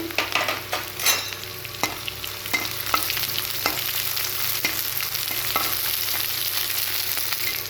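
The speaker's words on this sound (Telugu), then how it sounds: "ఇప్పుడు ఆనియన్స్ వేస్తున్నానండి. పచ్చిమిర్చి కూడా వేస్తున్నానండి." Chopped onions and green chillies fry in hot oil in a pan, with a steady sizzle under repeated scraping stirs of a spoon at a loose, regular rhythm, close and fairly quiet.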